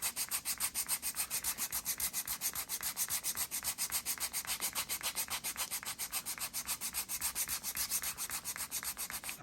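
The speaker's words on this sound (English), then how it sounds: "take the grater, and then just kind of go along the whole palm" A callus grater rasps along the palm of a hand with quick, steady back-and-forth strokes, a soft, close, dry scratching that repeats evenly with no voices.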